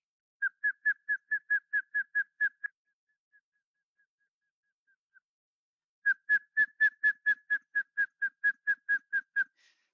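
A person whistles an imitation of a garter trogon's call: a rapid series of evenly spaced clear notes, a pause, then a longer run of the same steady, bird-like call.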